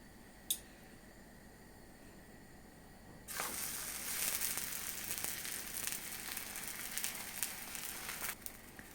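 Layered onion flatbread (katlama) dropped into a hot pan, faint quiet at first, then a sudden steady sizzling and crackling of frying dough that carries on to the end.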